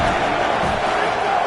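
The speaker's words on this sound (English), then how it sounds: "how nice is it to have the home crowd going absolutely bananas?" A home crowd at a college football game makes a steady, dense roar with cheering and shouting. It stays loud and constant throughout and blends into a wall of noise.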